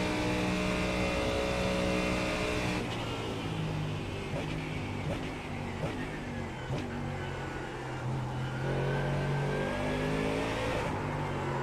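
Race cars roar around the Daytona Road Course during an IMSA session, engines loud and sustained with rising and falling revs as several cars pass close by.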